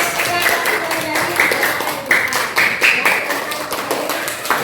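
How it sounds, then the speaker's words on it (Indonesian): A class claps for a group of pupils during a school lesson, a dense run of hand claps with a loud, steady rhythm and voices mixed in. "tepuk tangan dulu untuk"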